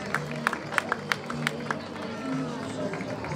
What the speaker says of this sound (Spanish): Fuerte aplauso para Jaime.